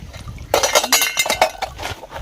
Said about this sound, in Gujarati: ચાલો તો અહીંયા વાસણ પહેલા મૂકી દઈ